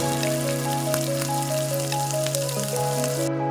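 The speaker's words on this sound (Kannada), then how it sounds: "ಇದನ್ನು ಚೆನ್ನಾಗಿ ಎಣ್ಣೆಯಲ್ಲಿ ಫ್ರೈ ಮಾಡ್ಕೊಳ್ಳಿ ಹೀಗೆ ಒಂದೊಂದಾಗಿ ಹುರಿಬೇಕು" Roasted gram frying in oil for poha chiwda gives a steady, close sizzling hiss under tonal background music.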